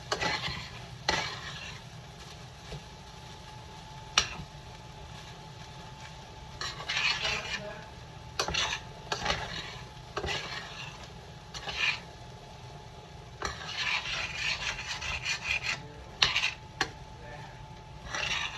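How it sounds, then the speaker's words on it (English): Fried rice stirred in a pan on the stove with a utensil scraping the bottom, a steady close rasping and scratching in uneven strokes over a constant low sizzle, with no talking. "when I'm stirring, I'm also scraping the bottom"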